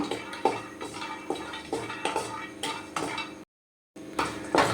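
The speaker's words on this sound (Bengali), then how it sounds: "কড়াইয়ে দিয়ে দিলাম কতগুলো বাদাম এই যে বেশি নয় এই কয়েকটা বাদাম এবার এগুলো একটু হালকাভাবে ভেজে নেব" A handful of peanuts dry-roasting without oil in a wok, stirred with steady rhythmic scraping and clattering strokes against the metal, close and moderately loud, with a brief pause near the end.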